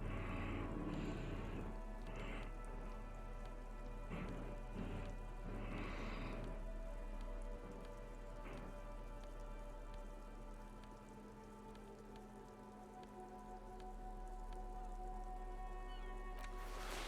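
Steady rain falls in the video game Disco Elysium, a continuous wash of drops on surfaces with a few brief louder patters and a faint low hum beneath, holding evenly throughout with no voices.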